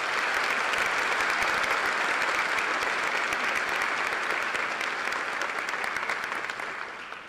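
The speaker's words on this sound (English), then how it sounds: "And if we could have a round of applause for our fine organist, Janine Van Way." A high school graduation audience gives the organist a long, dense round of applause that holds steady for several seconds, then begins to fade at the end.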